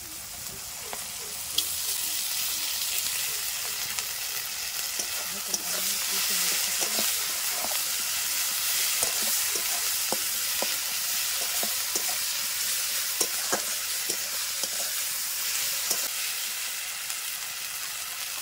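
Ground paste of cumin, coriander, ginger, garlic and dried chilli frying with browned onions for a Bengali jackfruit curry, a steady close sizzle with frequent light clicks and scrapes of stirring throughout.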